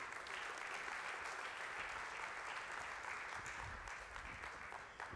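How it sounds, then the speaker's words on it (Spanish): A church congregation applauds at length, a broad steady wash of many hands clapping that carries on evenly and sounds somewhat distant in a large room, with no speech on top. "Le da ese aplauso sonoro al Señor."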